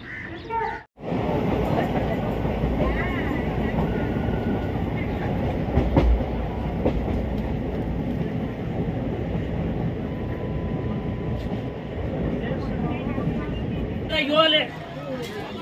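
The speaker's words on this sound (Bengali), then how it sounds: "তো চলো আমরা লক্ষ্মীকান্তপুর ট্রেন ধরবো।" A local train bound for Lakshmikantapur running along the line, a loud continuous rumble and rattle of the carriages with rhythmic clatter, plus passenger chatter in the background.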